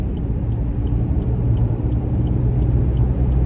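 A car cruises at about 145 km/h on a highway in India, a loud steady low rumble of road and engine noise with faint ticking from inside the cabin.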